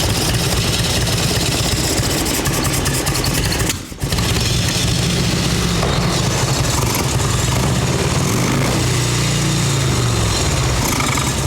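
A 1989 Harley-Davidson Ultra Classic bagger with air leaks and carburetor trouble idles loudly up close, a rough continuous engine rumble with one brief dip partway through, then running on steadily.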